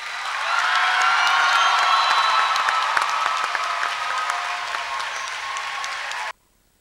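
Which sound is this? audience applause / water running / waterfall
audience applause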